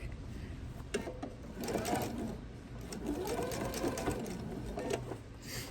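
Sewing machine stitching a tree skirt, running in steady continuous bursts close up with brief slowdowns, and faint talk in the background.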